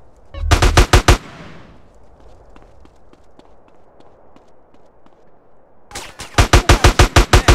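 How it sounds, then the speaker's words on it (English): Gunfire in GTA San Andreas: two loud, close bursts of rapid shots, one at the start and a longer one at the end, separated by quieter ambient game sound with soft footsteps. "That was a sniper bullet!"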